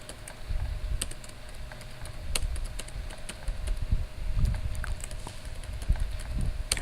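Computer keyboard keys tap in quick, uneven bursts while code is being written, with a few heavier presses that fit the Enter key. The typing is close and clear, with no talk over it.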